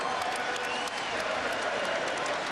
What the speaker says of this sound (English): Brian Skinner hearing the applause